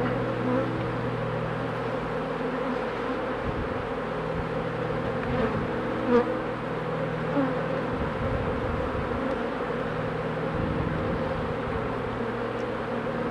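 Honeybees swarm and buzz steadily around an open beehive during a hive inspection, a dense, even drone that holds near and constant throughout.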